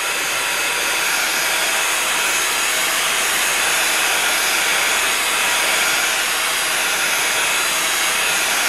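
A heat gun blows a loud, steady, airy roar without a break while drying the stamped background of a handmade Christmas card. The sound is close and has no talking.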